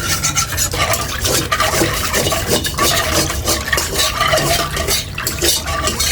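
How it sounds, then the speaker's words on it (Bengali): A spoon scraping and stirring a creamy barfi mixture with sugar in a pan, loud and close, a continuous rhythmic scraping and sloshing with no voices. "আমি ভালোভাবে মিশাই নিচ্ছি এইভাবে।"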